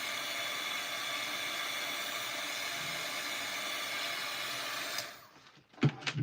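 A hair dryer blows steadily on freshly made craft pieces, a constant loud whooshing whir that cuts off near the end, followed by a few soft handling bumps.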